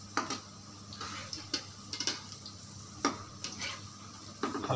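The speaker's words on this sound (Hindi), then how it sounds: "हल्का सा उसको बस फ्राई करेंगे उस साइड को" Cauliflower pakoras (gobhi pakore) frying in hot oil after being turned, giving a steady sizzle with intermittent stirring clicks and scrapes, close and moderately loud, with no talking.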